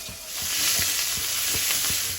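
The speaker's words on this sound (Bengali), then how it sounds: "আলুটা ভাজা ভাজা হয়েছে" Potato pieces fry in a pan for a Bengali rohu fish curry, giving a bright continuous sizzle with soft, regular scraping knocks of a spatula stirring close by.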